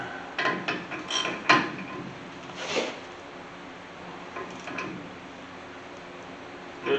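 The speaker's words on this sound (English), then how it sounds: "I got a socket that fits my spindle nut here. I'm going to go ahead and crank that all the way down." A socket wrench tightens the front spindle nut on a 1981 Chevy C10 pickup, giving quiet, close ratcheting clicks in short irregular bursts with pauses between.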